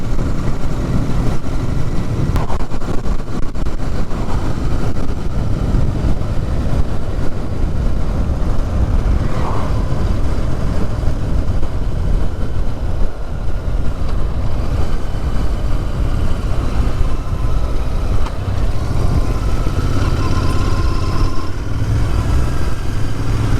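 A Royal Enfield Interceptor Mk 2 motorcycle engine drones steadily and loud throughout a ride, a continuous low rumble with wind noise and no talking.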